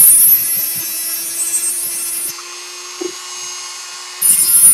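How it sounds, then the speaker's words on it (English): Close, harsh grinding on a music wire tension bar, two loud high-pitched passes separated by a quieter pause with a low steady hum beneath. "Let me grind it down real quick a little bit more so it fits"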